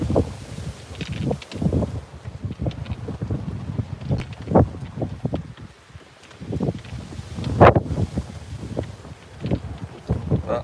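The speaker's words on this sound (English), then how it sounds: "There's quite a big wind on" Strong wind buffets a lakeside fishing spot, roaring and gusting continuously across the microphone with rustling around it, loud and unbroken for the whole stretch.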